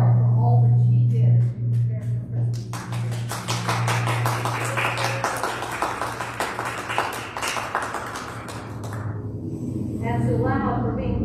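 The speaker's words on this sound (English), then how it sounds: "We applaud you as well." A congregation applauding at a Christmas Day Mass, a long wave of many hands clapping in a church that swells, holds for several seconds and then tapers, with a spoken voice before and after.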